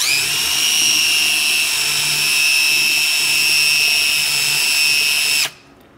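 A power drill spins sandpaper wrapped around a drive pin during a Foxbody rear disc brake upgrade, giving a loud, steady high whine that runs several seconds and then cuts off abruptly.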